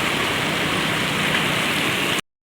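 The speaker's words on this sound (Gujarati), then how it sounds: "ફાઇનલી દોસ્તો વરસાદ આવે છે દુનિયાનો." Heavy rain pours down in a dense, continuous roar of water that fills potholes with puddles, loud and unbroken, then stops abruptly.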